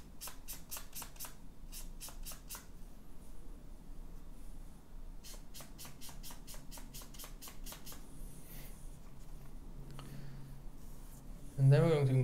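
Paper rubbed over an M.2 SSD to wipe off alcohol-softened sticker adhesive residue: quick, close scraping strokes in two bursts, separated by a steady low background, with a brief louder knock at the end.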